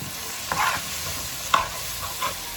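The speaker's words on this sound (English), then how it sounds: "we're just giving this a good mix, and as you see when I'm mixing it, I'm scraping all of that" Rice mixture with ribs being stirred in a pot, a spoon scraping the bottom in three separate pulls against a steady low sizzle, close by with no talk.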